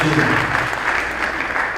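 Audience applause at a high school's State of the School address, dense steady clapping that fills the hall, with a voice briefly heard early on.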